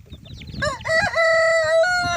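A Leghorn hen lets out one loud, close, drawn-out squawking call that rises and then holds steady, after a few soft background scratches.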